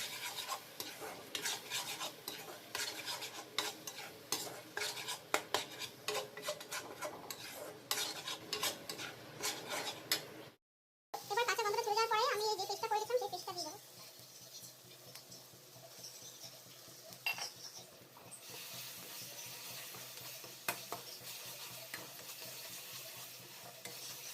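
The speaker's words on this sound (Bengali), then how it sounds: "যতক্ষণ না আদা রসুনের স্মেলটা চলে যায় ততক্ষণ পর্যন্ত এটাকে ভালো করে আমি কষিয়ে নেবো" Ginger-garlic paste is stirred and fried in a pan while cooking a jackfruit curry, giving steady scraping stirs over a loud sizzle; after a brief pause the frying continues more softly with occasional clinks of the spoon.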